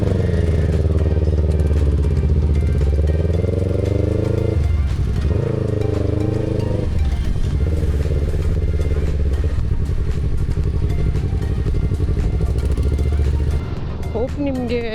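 A Royal Enfield Meteor 350 motorcycle rides along a road, its engine droning steadily with wind rush and shifting pitch as it changes speed, heard close from the helmet while someone talks over it.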